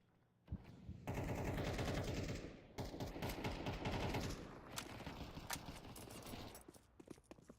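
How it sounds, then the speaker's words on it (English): Rapid pistol gunfire in a Counter-Strike 2 match, loud bursts of quick repeated shots with a few scattered single pops toward the end. "He's spamming with those pistols"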